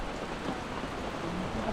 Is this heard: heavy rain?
yes